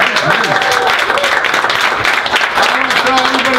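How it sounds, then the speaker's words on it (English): A live crowd applauds loudly at a wrestling fan event, with steady clapping throughout and voices talking and calling out over it. "Give yourselves a round of applause."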